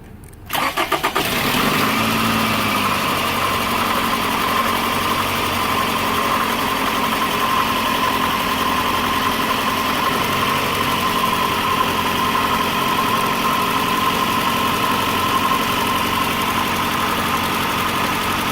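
A car engine cranks briefly and catches during fuel injector troubleshooting, then settles into a loud, steady idle that hums on unchanged to the end.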